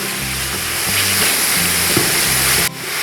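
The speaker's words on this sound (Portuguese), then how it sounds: "Eu vou acrescentar 500 gramas de carne moída." Ground beef (patinho) sizzles in lard in a frying pan, a steady close frying hiss that carries on without pause for a few seconds, then briefly drops off near the end.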